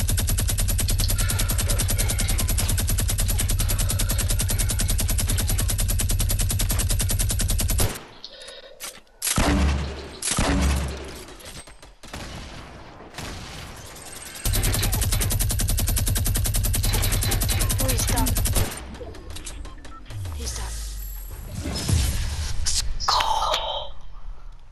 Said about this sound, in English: It's like I have a minigun.